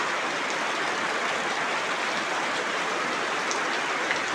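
Heavy monsoon rain pours steadily outside a home, a dense, continuous roar of falling water that stays loud and even throughout with no voices.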